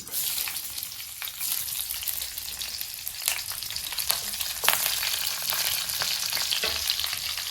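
Chillies fry in oil for a tempering for a Konkan monsoon wild vegetable dish, a steady close sizzle with bright crackling bursts and scattered pops throughout, no speech.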